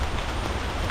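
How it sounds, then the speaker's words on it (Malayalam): Steady rain patters down among forest trees on a morning bike ride near a waterfall, a dense even hiss filling the air without a break; no voices are heard. "അപ്പം പറഞ്ഞ പോലെ മഴയായിട്ടുണ്ട്"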